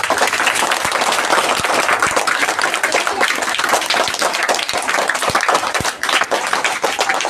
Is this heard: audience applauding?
yes